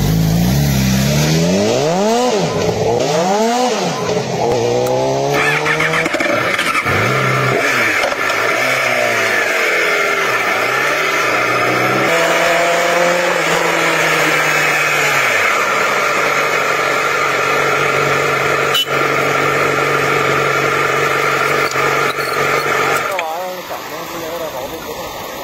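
A motorcycle engine revs and pulls away on a roadside, rising and falling in pitch before settling into a steady drone that cuts off near the end, fairly loud and close.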